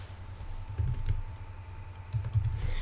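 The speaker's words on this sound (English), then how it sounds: "So, I type in the word fruit." Keys clatter on a computer keyboard in two short bursts of typing, close and moderately loud, separated by a brief pause with a faint steady hum beneath.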